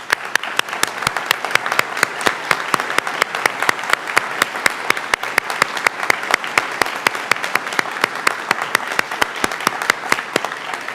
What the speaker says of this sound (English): I really want to do another round of applause and have you guys stand,